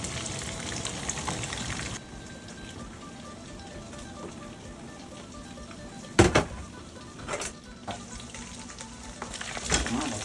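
Fish frying in hot oil, a close, steady crackling sizzle that drops to a quieter hiss partway through, broken by a few sharp spits and clatters near the end.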